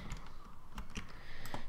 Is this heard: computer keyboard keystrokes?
yes